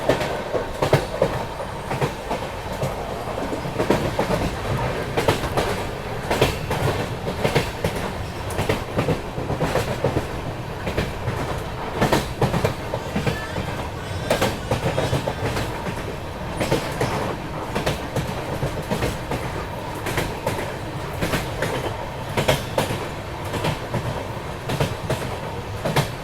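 Mahabodhi Express passenger train running on rails near Dehri-on-Sone, a steady loud rumble with repeated clickety-clack of wheels over rail joints throughout, heard from on board with no talk.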